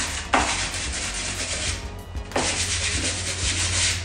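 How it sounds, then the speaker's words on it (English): Wood sanded by hand with sandpaper indoors while refinishing a dressing chair: two long, close, scratchy strokes, each starting with a sharp onset and fading before the next. "sandpaper and then wrap this. And you can sand like this."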